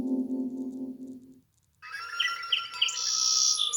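A sparrow chirps in quick, bright, high-pitched tweets, close and clear, after a low sustained tone fades out.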